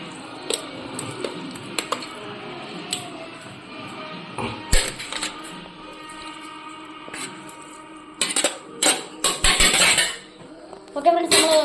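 Raw beef pieces being tipped into a metal pressure cooker, with sharp metallic clinks and clatters of meat and utensil against the pot, sparse at first then clustering into louder bursts near the end.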